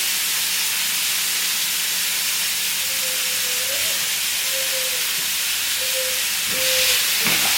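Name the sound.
onions and peppers sizzling in a pan for shakshuka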